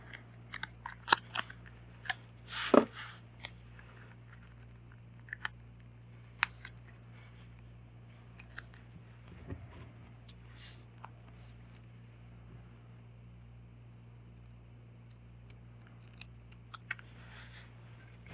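Scissors snip several times in quick, crisp cuts early on, followed by scattered faint snips and handling clicks over a low steady hum.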